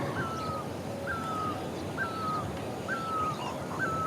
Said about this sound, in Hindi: चारों तरफ से चिड़ियों की चहकने की आवाज़ सुनाई दे रही है।